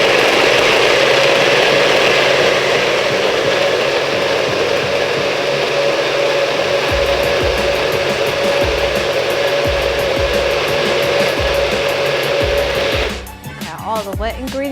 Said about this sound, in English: going to blend all the wet ingredients together